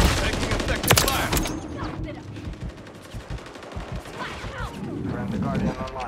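Call of Duty Hardpoint match gunfire: a dense, sustained crackle of rapid automatic shots with a loud burst near the start, continuing under in-game radio voices and player talk.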